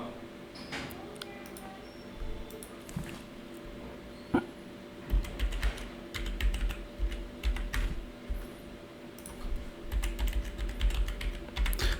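A password being typed on a computer keyboard: quiet, irregular bursts of clicking keystrokes, close by, with faint background hum and no talk.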